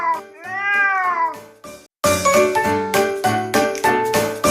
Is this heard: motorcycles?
no